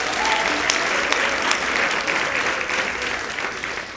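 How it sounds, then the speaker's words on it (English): Steady applause from an awards-ceremony audience for a minister, a dense, even wash of many hands clapping from start to finish, fairly loud and fading only slightly at the end. "please give the minister another round of applause"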